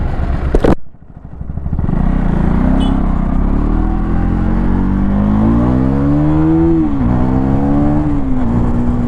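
A 2024 third-generation KTM Duke 390 launches hard from first gear: a brief clunk and dip, then the engine pulls into a loud, rising rasp that climbs steadily, briefly drops at a shift, and keeps accelerating close to the listener.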